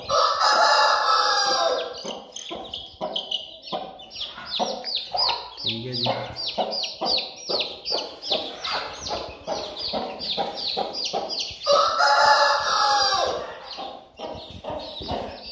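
In a village, chickens cluck in rapid, busy bursts, and a rooster crows loudly and close by a few times. A voice speaks briefly among the birds.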